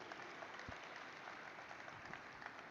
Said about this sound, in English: A big, big round of applause for every one of them